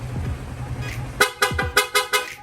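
A loud aftermarket horn on a Sniper 155 motorcycle blares in a rapid series of about five sharp honks after a low engine hum.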